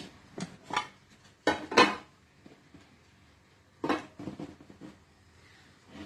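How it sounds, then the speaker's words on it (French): A plate set on a cake tin, then the tin flipped over while making a yogurt cake: a few sharp clattering knocks of metal and crockery in short bursts, close and clear, with quiet pauses between. "Alors, on va placer un plat dessus et retourner notre moule."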